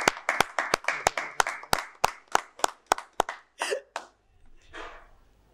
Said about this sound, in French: toute l'équipe sur le plateau vous applaudit pour ce que vous faites